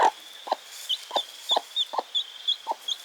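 A mother hen clucks softly to a newly hatched chick, giving low, evenly spaced clucks about twice a second, while the chick's thin high peeps sound alongside in a quiet setting.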